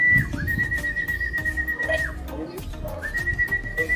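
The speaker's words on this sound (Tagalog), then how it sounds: "Oh, pito." A sustained whistle blown at a pigeon racing derby clock-in in Matnog, Sorsogon, two long steady tones separated by a short break, heard over a busy background of crowd murmur and nearby voices.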